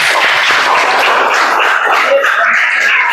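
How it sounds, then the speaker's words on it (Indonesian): Classroom audience applauding a student after his presentation on troubleshooting a LAN network problem, a dense steady patter of many hands clapping throughout at moderate loudness with no speech over it. "Berikan aplaus dulu."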